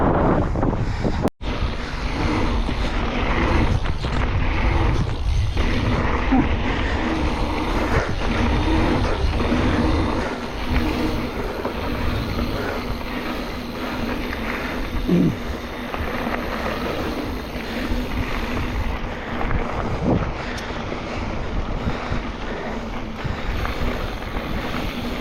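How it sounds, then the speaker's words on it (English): Strong wind roaring across open water while out boating, a steady loud buffeting rush over the microphone with low rumble and occasional gusty thumps throughout. "it's a very strong wind today"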